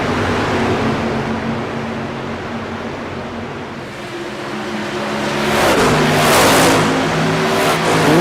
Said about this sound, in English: That number 3 machine is carrying a ton of speed around this racetrack.